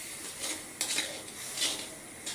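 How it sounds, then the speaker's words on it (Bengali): Spices being stirred in a pan on the stove, with soft scraping and clinks of a utensil against the pan in a few irregular bursts over a faint sizzle, fairly quiet and without talk. "এখন আমি চুলায় মশলাগুলো কষানো দিচ্ছি। আমি আবারও চলে যাচ্ছি, মশলাগুলো আবার নেড়ে ছেড়ে দেব।"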